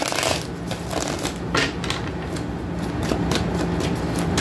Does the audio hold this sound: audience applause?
no